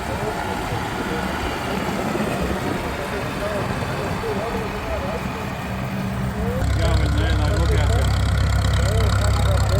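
An old Farmall tractor engine idles at a vintage machinery rally in Kingaroy, with a steady low chugging rumble, growing louder and deeper partway through as it sits close by.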